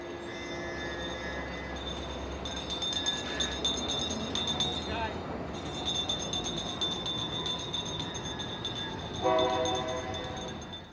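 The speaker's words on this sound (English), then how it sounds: "see a Tri-Rail commuter train arrive at West Palm" A Tri-Rail commuter train rumbles in at a distance at West Palm, with a steady low roar and rattling wheels, a horn sounding partway through and again near the end.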